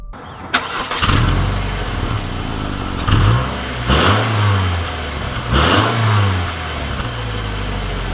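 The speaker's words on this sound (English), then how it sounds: "we are officially setting off here in the 2020 Subaru Forester Sport" A 2020 Subaru Forester Sport accelerating as it sets off, heard from inside the car: the engine rises and falls through several rev swells, a close steady drone between them.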